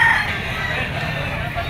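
A gray Sweater-line bull stag, a young rooster, crows briefly at the start, then a steady broadband noise carries on with no further calls.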